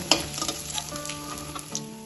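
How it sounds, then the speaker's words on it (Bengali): Fish frying in hot oil, a steady close sizzle with crackling pops and a few brief scrapes as the pieces are handled. "মাছগুলো সব বাদামি করে ভাজা হয়ে গেছে। এখন আমি এগুলো তেল থেকে তুলে নেব।"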